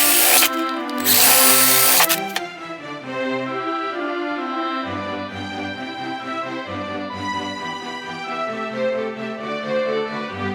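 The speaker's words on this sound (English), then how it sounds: "Now it's just a lot more drilling and sanding." A power drill bores into poplar parts for a wooden MG-34 machine gun replica prop, a loud whirring burst lasting about two seconds near the start, followed by steady tonal music for the rest.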